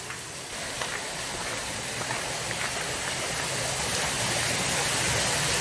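Water rushing down a mill race beside a water wheel in Trhové Sviny, a dense steady hiss and splash that grows slightly louder, close and continuous with no voices.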